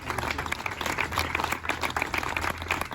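A crowd at a political rally gives a burst of steady applause, many hands clapping fairly close and continuously.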